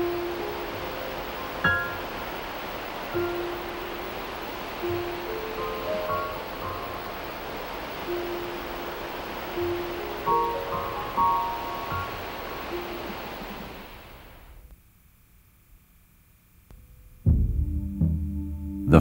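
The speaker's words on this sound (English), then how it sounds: "Jagged cliffs and sandy beaches meet the waters of the Pacific Ocean" Pacific Ocean waves wash onto a sandy beach among jagged cliffs and sea stacks, a steady broad surf hiss with soft repeated swells before the sound drops away near the end.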